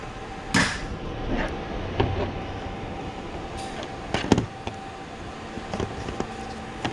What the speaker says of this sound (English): Just pop off these clips here